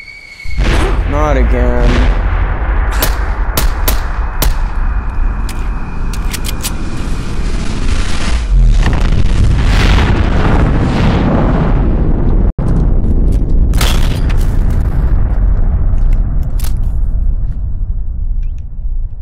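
Fragmentation grenades go off in a video game, giving loud, booming blasts with rumbling debris and crackling aftermath that carry on through most of the stretch, while someone speaks briefly over the noise.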